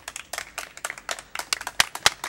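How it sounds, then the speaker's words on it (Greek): A few people clap in short, uneven bursts nearby, the sharp claps irregular and fairly close, with no talking over them. "Ένα χειροκρότημα για όλοι!"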